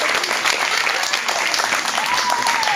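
A loud round of applause for the presenter introducing himself at a group performance at a monastery, dense continuous clapping with a few voices and a whistle-like tone near the end.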